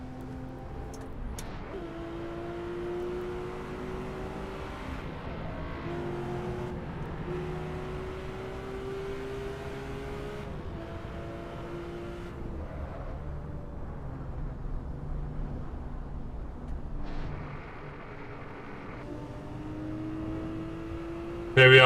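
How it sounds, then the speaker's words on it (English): A car in the Assetto Corsa racing game cruises through traffic on the Shutoko expressway, its engine droning steadily with rising and falling gear tones throughout, close and even in level. "Here we are, cruising through traffic."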